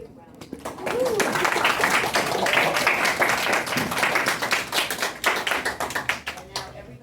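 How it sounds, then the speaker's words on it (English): Audience at a fifth-grade simulated congressional hearing bursts into loud, dense applause for the students, sustained clapping for several seconds with some voices mixed in. "let's give them a big round of applause"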